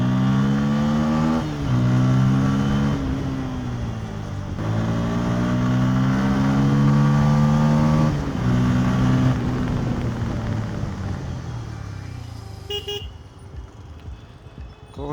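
A Bajaj Pulsar N160 motorcycle drones steadily with a loud, throaty exhaust, pitch rising and dropping through gear changes between second and third before easing off near the end.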